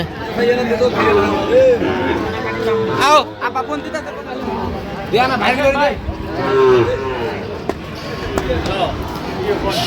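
At a livestock market selling Sahiwal bulls and calves, cattle moo in a few loud, drawn-out calls amid constant crowd chatter and nearby conversation.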